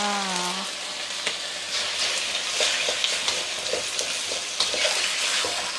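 Pork and egg sizzle and crackle in a hot pan for Thai fried rice, with a dense continuous frying hiss and occasional stirring scrapes and clicks, close and fairly loud.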